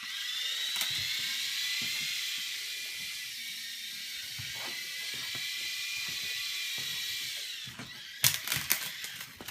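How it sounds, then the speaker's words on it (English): A small RC helicopter flies with a steady, high-pitched whirring whine from its motor and rotor, holding nearly constant before a few sharp knocks and clatters at the end. "here's my RC helicopter"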